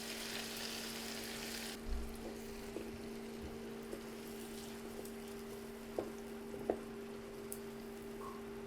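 Snake gourd frying with garlic and onion in a pan: a steady, faint sizzling hiss with a few soft pops and clinks, and no voices.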